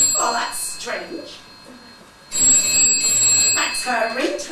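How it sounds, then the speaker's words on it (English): A mobile phone ringtone trills during a village pantomime stage show, sounding in bursts amid audience laughter and actors speaking. "That's her ringtone."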